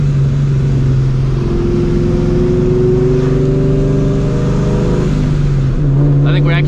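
Supercharged New Edge Mustang GT fitted with long tube headers, pulling hard under acceleration: a loud, sustained engine drone whose pitch climbs steadily over several seconds, with a brief dip near the end and voices chattering over it.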